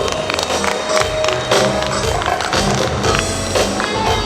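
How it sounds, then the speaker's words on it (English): Audience applause at a formal partnership recognition ceremony, a dense, steady clatter of many hands clapping continuously, loud and fairly close, with faint cheering mixed in and no speech over it. "Let's give them a round of applause."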